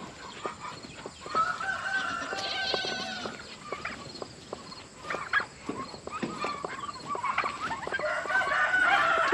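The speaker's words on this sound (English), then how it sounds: "Turkeys." Turkeys gobble and call near and around on a farm. Warbling bursts and clucks overlap in a busy, continuous chorus that swells toward the end, with no talk.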